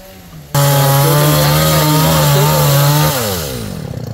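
A chainsaw cuts through the trunk of a large golden-flowered acacia (tràm bông vàng), its base about 140 cm around, on a canal bank. The engine snarls up loud and steady for about three seconds after a short quiet start, then the pitch slides down as it eases off.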